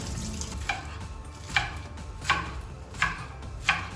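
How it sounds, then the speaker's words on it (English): Knife chopping the green parts of scallions on a cutting board, five distinct crisp strokes spaced evenly about every three quarters of a second, close and clear with no talk. "With the green part of scallions, it's time to cut them."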